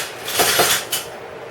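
Roasted peppers, boiled and peeled for a traditional Mexican salsa ranchera, are pushed into a glass jar: a brief cluster of clinks and soft knocks against glass over about a second, close and moderately loud, with no talking.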